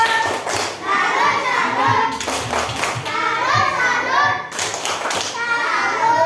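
A group of schoolchildren claps in rhythm while chanting together, with bursts of sharp, close hand claps under their voices.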